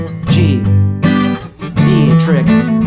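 Electric guitar plays a chord embellishment over a chord progression, with three strummed chord phrases and quick hammer-on flourishes, loud and close with no talking.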